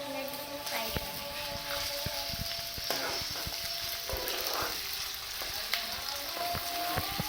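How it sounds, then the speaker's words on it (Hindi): Goat liver (pota kaleji) frying in a pan with a dense, crackling sizzle, broken by occasional sharp utensil knocks, heard up close with no talking. "तकरीबन 5 से 7 मिनट इसको फ्राई करेंगे।"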